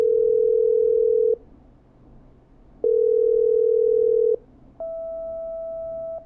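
A call placed in the video game Killer Frequency rings through the line: two long steady telephone ring tones separated by a pause, then a higher sustained tone, loud and isolated with no voices.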